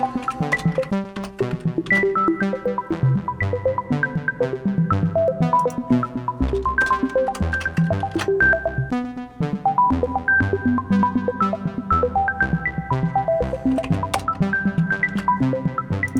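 Synth tones livecoded in ChucK with reverb added, giving a continuous busy pattern of short pitched notes that ring and smear into each other over a low, steady electronic bass, loud and without voices.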